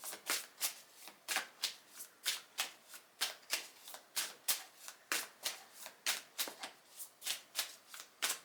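Tarot cards shuffled over and over at close range, each riffle a crisp papery burst in an even, brisk rhythm with no talking.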